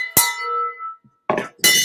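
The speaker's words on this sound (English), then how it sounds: "Guys, victory bell." A victory bell is rung, one sharp bright strike that rings out and fades, followed later by two further loud clanging hits close to the listener.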